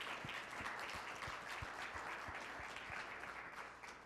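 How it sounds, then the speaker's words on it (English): An audience at a Safe Streets meeting claps in a sustained round of applause, many hands patting densely together before tapering off slightly near the end. "let's have another round of applause for Clarence and Miles."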